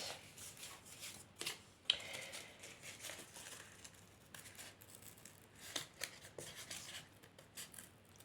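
Small scissors trimming a paper home decoration, quiet close snips and light paper rustling in uneven bursts, faint and without any talking.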